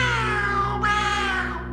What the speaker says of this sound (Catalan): Em vaig creuar amb un gat negre que va miolar 3 vegades.